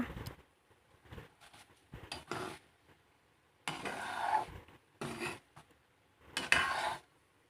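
Boiled potatoes are stirred in a wok, giving soft, intermittent scraping and clinking bursts of a utensil against the pan, close and quiet with pauses between strokes.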